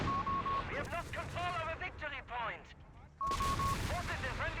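Artillery and gunfire in the Company of Heroes 3 battle game, with repeated sharp bursts and booms, a whistling tone at start and again near the end, mixed under ongoing talk.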